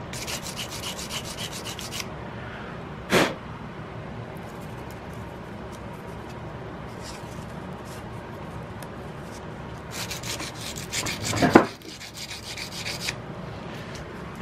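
A file and sandpaper work slowly over a metal gun nose cap on an Investarms Hawken rifle build, a long run of soft rasping strokes with a couple of sharper knocks, close and fairly quiet.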